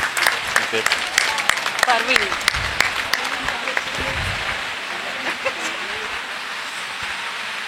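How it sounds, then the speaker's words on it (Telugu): An audience at a stage dance show applauds, a dense burst of clapping that is loudest at first and gradually thins out, with a person's voice heard over it. "ఒకసారి క్లాప్స్ అండి బాబు"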